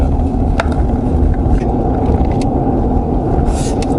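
A Chevrolet Colorado pickup truck on a test drive gives off a steady low cabin rumble of engine and road noise, continuous and loud with a few faint clicks.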